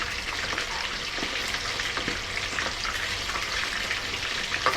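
Food frying in hot oil in a home kitchen, a dense steady sizzle with scattered sharp pops and spatters of oil throughout, close and uninterrupted, no voices.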